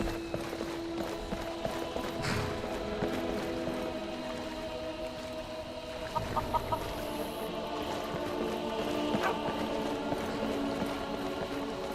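Horse hooves clip-clopping in the video game Skyrim, a light rhythmic clatter over steady ambient game sound with faint clucking fowl in the mix and no talking.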